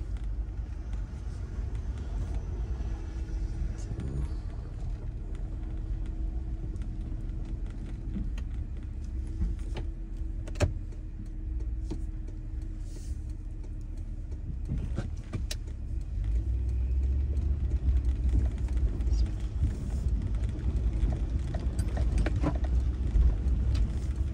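Car rolling over a bumpy compacted-snow road in winter, a steady low rumble from tyres and engine with scattered knocks and rattles throughout, recorded from inside the vehicle.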